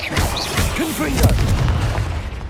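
A Confringo fire spell blasts in Hogwarts Legacy as a loud, close booming impact with crashing debris, mixed with in-game character voices and chaotic combat sounds throughout.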